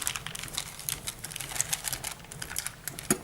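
Plastic packets of screws for mounting a Zone 1 satellite dish being ripped open by hand, a burst of close, crinkly tearing and rustling over about three seconds, ending in a sharper rip.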